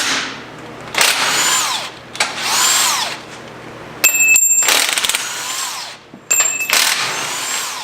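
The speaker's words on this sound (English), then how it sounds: "get out your air chisel with a blunt end, not a chisel end, and just hammer on this." A pneumatic air chisel fitted with a blunt end hammers in several bursts of a second or more on a Ram truck during a rough install, with sharp metallic ringing in between and no speech.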